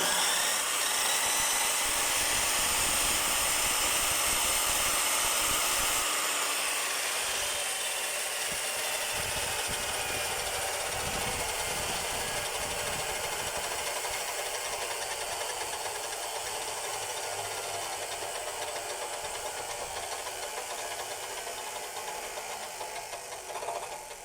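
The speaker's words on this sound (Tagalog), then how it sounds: "Umaandar siya pero masiklab tsaka maingay yung gear." A power tool with a noisy gear and a wobbling bit runs continuously for over twenty seconds, a dense steady grinding whir with rattling undertones that eases slightly in loudness toward the end.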